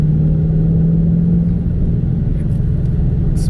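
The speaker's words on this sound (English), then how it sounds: "Roush Mustang with the fun pedal, 6-speed manual transmission." A 2022 Roush Mustang with a 6-speed manual transmission cruising along a canyon road: a loud, steady interior engine drone with deep rumble, the pitch shifting slightly partway through as the load changes.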